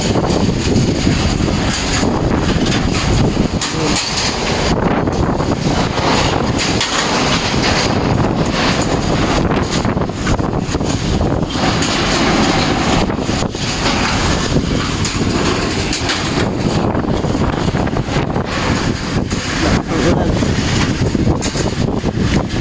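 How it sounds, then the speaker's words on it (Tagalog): Powerful wind from Typhoon Emong in the Philippines roars and buffets the microphone continuously, a dense, loud rushing with gusty surges and no letup throughout. "lakas ng hangin hindi hangin ng hindi ulan ng malakas hangin"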